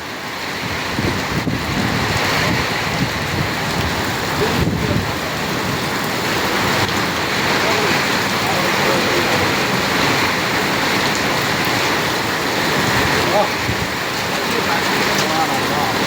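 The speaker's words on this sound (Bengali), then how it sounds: "তুমুল আকৃতির বৃষ্টি।" Heavy rain in Qatar pours steadily in a dense, unbroken hiss, with a few low voices briefly murmuring underneath early on.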